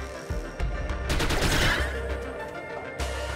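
Rapid bursts of gunfire from a gun in the video game The Mummy Demastered, a loud continuous volley that swells in the middle and flares again near the end.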